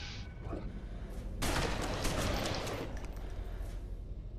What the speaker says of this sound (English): Nothing like a shotgun to the alien face.